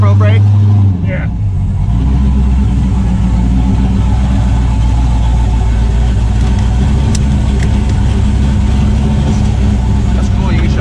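A project Chevrolet Camaro engine runs loud and steady, a deep low rumble throughout with a brief dip near the start, continuing without a break.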